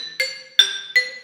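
Three quick, bright metallic clinks of a pitch bend mallet accidentally tapping a vibraphone bar, each a short ringing tick, close and fairly soft, with no other sound.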